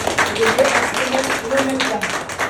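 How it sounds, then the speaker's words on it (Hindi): Applause for a participant named Bharti at an academy gathering: many people clap together in a continuous, moderately loud patter, with voices talking faintly underneath. "तालियां बजा दीजिए भारती जी के लिए"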